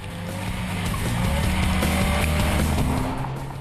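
A Mini Coupe drives hard on a track, its sporty engine growling steadily at speed with a hint of tire squeal, loud and continuous throughout with no voices.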